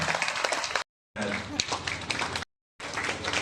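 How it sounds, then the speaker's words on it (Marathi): An audience applauds at a felicitation ceremony honouring tribal community students, moderately loud clapping broken by two brief silent gaps. "जोरदार टाळ्या."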